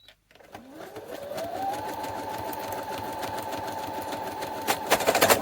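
A sewing machine stitches through paper with its thread tension turned down to zero, a steady loud whir rising in pitch as it speeds up, then running evenly with rattling clicks toward the end.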